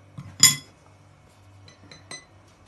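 A teaspoon clinking against a bowl while measuring salt for bran bread: two or three light, bright metallic clinks, close and quiet, in a still kitchen.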